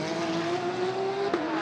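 A Porsche GT race car in FIA GT World Cup qualifying at Macau brakes hard into Lisboa corner, its engine a steady high whine with a short sharp crackle near the end.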